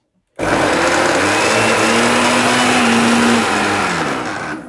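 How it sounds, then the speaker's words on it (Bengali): A Miyako food processor fitted with its jug runs as a blender, a steady loud motor whine starting abruptly and holding evenly for several seconds, close up with no talk. "আপনি যখন জগ ব্যবহার করবেন এটা জাস্ট একটা ব্লেন্ডার হিসেবে কাজ করবে"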